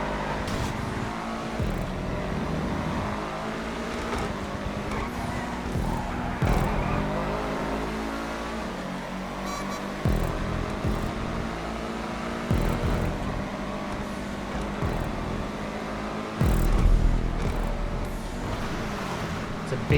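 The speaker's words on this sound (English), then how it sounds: "Big group of cars coming up" Race cars in GTA V roaring past in a multi-class race, a continuous loud engine drone with rising revs and passing swells, and a voice talking over it.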